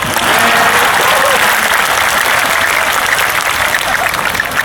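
Loud, steady applause from a large crowd at a religious gathering with a regional official present, continuous clapping throughout with no break.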